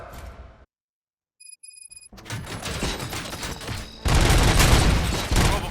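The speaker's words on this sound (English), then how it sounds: "Gunshots? What's going on?" Gunfire in the Robocop: Rogue City video game erupts after a short silence and a few faint beeps, building into dense rapid bursts of shots that grow louder and heavier in the last seconds.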